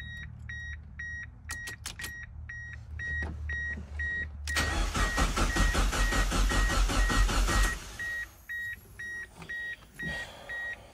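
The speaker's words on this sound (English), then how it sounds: "Got the little beep." Electronics in a boosted Mazda Miata recovering from a fire: a run of repeated short electronic beeps, then a loud mechanical whirring for several seconds, followed by more rhythmic beeping pulses nearby, with no talking.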